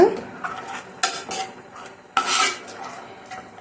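Paneer bhurji with a cup of added water is stirred in a pan, a spoon scraping and clinking against the metal in irregular strokes, with a louder scrape near the middle; close and clear, no talk.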